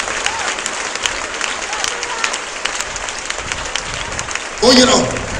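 A church congregation claps and cheers in acclaim of the Lord, a steady wash of applause with a louder burst near the end and voices calling out over it.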